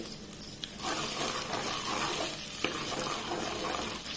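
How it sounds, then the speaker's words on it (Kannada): Butter melts and sizzles in a clay pot on a stove, giving a steady, close frying hiss with a few soft clinks and stirring touches throughout. "ಇವಾಗ ಇಲ್ಲಿ ಬೆಣ್ಣೆ ಕರಗ್ತಾ ಬಂತು"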